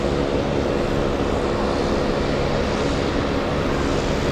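An airplane going around at Boston Logan Airport, a loud continuous broadband jet roar with a low engine drone, steady and sustained without pause.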